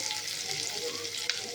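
Onions fry with ginger paste in a pan, giving a steady, close, broadband sizzle that runs unbroken throughout, with one brief scrape or stir near the end and no talking.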